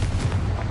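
A Confringo blasting spell detonates in Hogwarts Legacy, a loud, close, booming explosion that fills the whole short moment with a dense roar.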